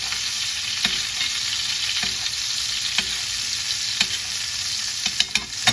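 A filet mignon sizzles steadily in a hot pan while being basted with fat, a constant close frying hiss punctuated by soft clinks and spoon taps, with no talking.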